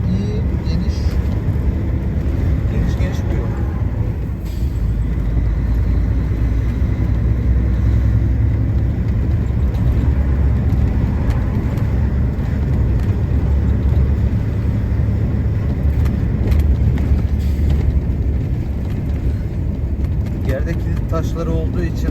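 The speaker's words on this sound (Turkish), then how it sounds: "araç çok fazla sarsılıyor. Bir asfalt gibi değil yani." A truck cab rumbles and shakes along a rough unpaved road, a loud continuous low engine and road roar with rattling jolts throughout, while someone talks over it.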